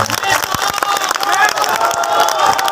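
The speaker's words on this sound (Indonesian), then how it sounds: "Tepuk tangan untuk ketua umum kita." Audience at an Islamic tabligh akbar gathering applauding and cheering for the organization's chairman, loud and close, with crowd voices, shouts and scattered claps throughout.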